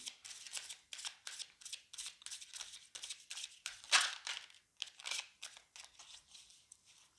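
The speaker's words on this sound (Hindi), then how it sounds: "मैं 2 कार्ड्स पुल करूंगी।" Tarot cards are shuffled by hand in quick, rhythmic riffling bursts, close and fairly soft, with one sharper snap near the middle and brief pauses between handfuls.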